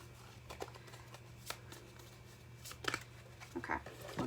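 Tarot cards are shuffled and drawn for a reading, giving scattered crisp flicks and snaps that grow busier toward the end, set over a faint steady hum.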